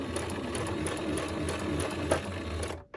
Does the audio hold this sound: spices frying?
no